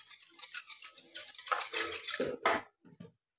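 A spoon stirs curd and sugar in a bowl for mixing dahi for dahi bade, scraping and clinking steadily against the sides in close, busy strokes before a few final taps.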